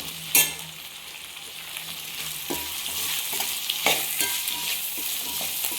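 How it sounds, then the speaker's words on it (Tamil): Fresh curry leaves frying and being stirred with jackfruit seeds and potato, with a loud initial crackle and a continuous sizzle under repeated scraping stirs in the pan. "கருவேப்பிலை வந்து ஃப்ரெஷ்ஷாக பறிச்சிட்டு வந்துட்டேன், அதையும் போட்டுடலாம். போட்டு வதக்கலாம்."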